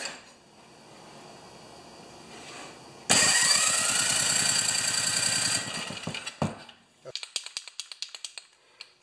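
A John Deere TRS 24 snowblower engine fitted with a freshly welded starter cranks and fires, roaring steadily for a few seconds before sputtering into uneven bursts and pops as it struggles to keep running.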